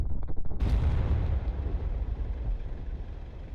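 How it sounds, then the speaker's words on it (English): JDAM guided bombs striking targets in the DCS World F/A-18 Hornet simulator: a short crackle, then a heavy explosive boom that rolls into a long, loud rumbling decay with no talk. "Observe the JDAM impacts."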